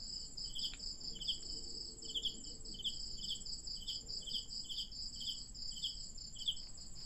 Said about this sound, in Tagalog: Kuliglig ba no?